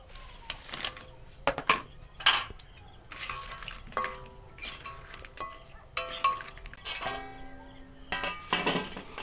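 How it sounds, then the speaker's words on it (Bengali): Cooled, crisp khaja pastries go into cold sugar syrup in a home kitchen. Irregular clinks and scrapes of a utensil against a pan come in bursts, with soft wet shuffling between them and no talk. "এবার আমি শিরাতে দিয়ে দিচ্ছি ঠান্ডা খাজাগুলো।"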